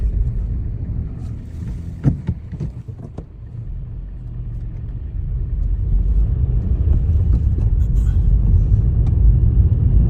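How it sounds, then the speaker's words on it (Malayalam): A car on a UK road with lane closures for roadworks, heard from inside as it pulls away and drives on, a steady low engine and road rumble that builds and holds, with a few faint knocks early on and no talking. "വണ്ടി എടുത്തു തുടങ്ങി"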